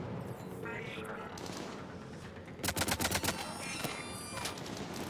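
Rapid burst of sniper gunfire in the video game Mass Effect 3, a tight cluster of sharp loud cracks midway through over a constant background of game noise and voices.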